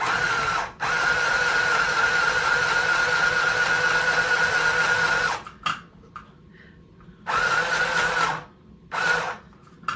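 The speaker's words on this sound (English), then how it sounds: "Okay, so I'm just going to try to start stitching." A mini sewing machine stitches in a steady, close whirring run that halts, then starts again in two shorter bursts with quiet gaps between.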